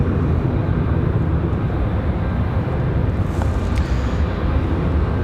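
MD-80 'Mad Dog' airliner at Raleigh-Durham airport at night, a steady loud engine roar filling the whole stretch, with no talking.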